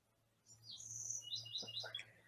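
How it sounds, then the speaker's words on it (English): Birds chirp outside through open windows, a few faint high tweets and trills clustered together over a steady low hum in a quiet room. "Are there birds over by you? Oh, do you hear birds?"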